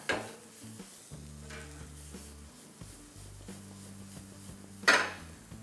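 White sauce pasta with oregano and red chilli flakes being tossed in a pan, with clattering pan and utensil knocks over a low sizzle and one sharp scrape near the end, no one talking.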